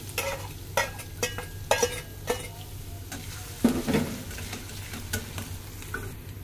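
Onion and garlic hit hot oil in a pan for a lati curry, giving a steady sizzle and fry broken by sharp stirring clatters of a utensil against the pot, close and with no talk.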